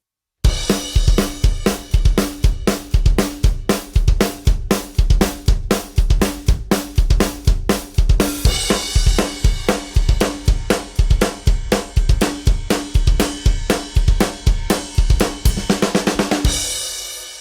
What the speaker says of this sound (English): So our double time groove sounds like this.